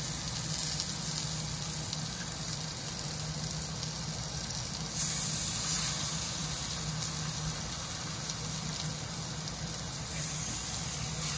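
Salmon pieces dropped into hot oil over a high flame, giving a loud, steady, hissing sizzle that swells for a moment midway and then settles into a constant close fry.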